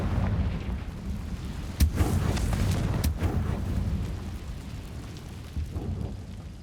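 Confringo blasting spell in the Hogwarts Legacy video game, sharp explosive cracks near the two-second and three-second marks over a rumbling, crackling background that lingers and fades, with a lighter burst near the end.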